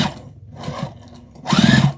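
A sewing machine back stitching over nested quilt seams on a scrap-fabric Christmas bowl cozy, in two short bursts of motor whir with a quieter pause between.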